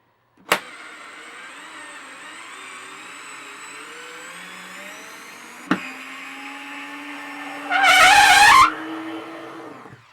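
A Tekhmann TCS-3.6 cordless screwdriver drives black self-tapping screws into a table board, giving a steady high electric motor whine close by. Sharp clicks mark changes in load, and a brief harsher grinding burst comes near the end, with no speech.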